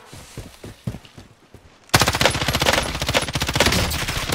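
Rapid automatic gunfire from a gun in a video game, a loud continuous burst of tightly spaced shots erupting after a few softer, scattered pops and carrying on steadily to the end.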